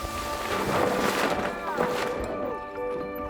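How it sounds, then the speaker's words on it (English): Clipper Round the World racing yacht sailing at sea off the coast of Africa, with steady broadband wind and water rush, tonal hums and creaks underneath, continuous and close. "Sailing past the coast of Africa."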